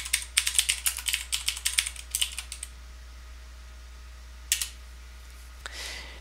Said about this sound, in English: Now when I type git log,